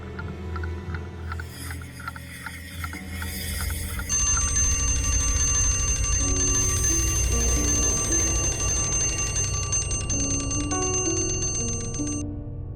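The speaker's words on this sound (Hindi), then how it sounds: "अरे, मैंने तो अलार्म लगाया ही नहीं था, फिर ये घड़ी कैसे बजी?" A bell-type alarm clock rings in a courtroom crime drama with a long, loud, continuous metallic jangle that swells and holds for several seconds, with a musical tone layered beneath it.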